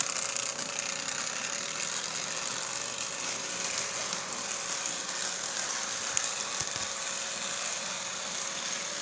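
A 1955 Lionel post-war switcher model locomotive runs with a steady mechanical whir and faint ticking from its motor and gears, even and unbroken for the whole stretch with no talking.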